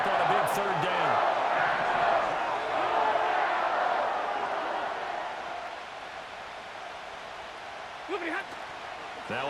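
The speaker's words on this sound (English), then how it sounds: "The crowd getting into it as we come up on a big third down." A football stadium crowd roars steadily before a big third-down play in a Packers game, a broad sustained wash of cheering with a play-by-play announcer talking over it.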